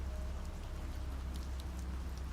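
Steady rain falls in a continuous, even hiss with a low rumbling undertone, with no pauses or voices over it.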